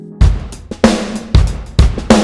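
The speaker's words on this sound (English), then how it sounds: "and then use compressors to make it sound like this." Programmed drum part processed with compressors, including a Waves API 2500 on the master bus: punchy kick and snare hits in a steady pattern, roughly four loud hits over two seconds with sharp attacks and short decays.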